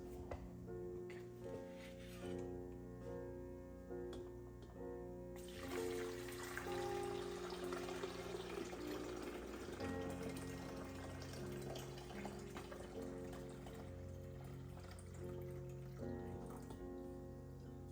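Water pours into the reservoir of a Capresso ST300 coffee maker, a steady gurgling trickle that starts quietly and builds into a fuller splashing flow, close and continuous, with a faint hum underneath.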